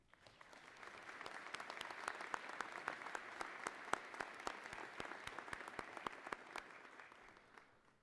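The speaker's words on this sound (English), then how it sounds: "let's give a round of applause" Audience applause at a college commencement ceremony, a steady wash of many hands clapping that swells in, holds for several seconds and fades, with scattered sharper claps standing out and no talk over it.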